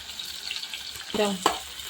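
Onions and green chillies frying in hot oil for a mutton curry, a faint soft sizzle with a short burst of stirring near the end.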